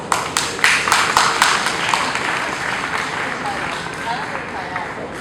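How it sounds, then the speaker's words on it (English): A small group claps at a stage workshop sharing Chinese classical dance, the hand claps sharp and rhythmic at first, then thinning into a softer scattered patter under faint background voices. "give yourself a round of applause"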